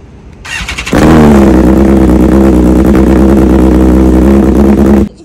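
BMW S1000R sport bike fitted with an SC Project exhaust fires up and revs loudly nearby, a steady, harsh roar holding for about four seconds before cutting off abruptly.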